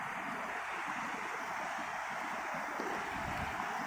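Steady, dense rush of falling water at Chitrakote Falls, a constant broadband roar close by with no voices.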